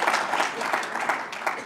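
An audience at an evening lecture on the Supreme Court in New Mexico breaks into applause, a soft, dense, continuous patter of many hands heard from a distance with faint crowd murmur.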